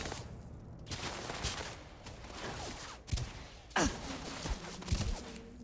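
Old Earth hunting rifle shots in Starfield ring out as a few sharp, separated cracks with dull thuds between them, fairly close, while a player sighs and murmurs faintly.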